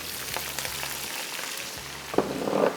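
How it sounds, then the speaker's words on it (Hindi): Chicken, garlic, onion and tomato fry in a karahi with a constant loud sizzle, joined by occasional scraping stirs and a low hum underneath, the hiss swelling near the end. "थोड़ा सा लहसुन फ्राई हो जाए, हल्का सा चिकन शामिल हो गया"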